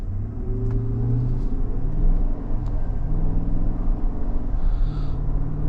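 A GMC Yukon Denali Ultimate with the 6.2 liter V8 pulling away from a stop, a low steady engine rumble rising through smooth gear changes, heard from inside the cabin.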